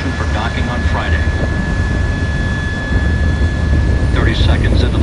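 Space Shuttle Endeavour's three liquid-fuel main engines roar during launch ascent toward orbit in August 2007, a constant heavy rumble that swells slightly near the end, with someone talking over it.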